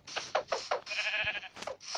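A Minecraft goat bleats in a quick run of wavering, nasal calls, loud and close, with one long sustained bleat in the middle and a voice-free stretch throughout.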